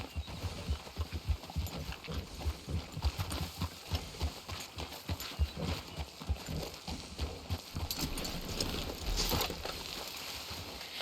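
Horse hooves clip-clop in Red Dead Redemption 2, a steady run of close, rhythmic hoofbeats on the ground over the full stretch, with faint ambient game sound underneath and no talking.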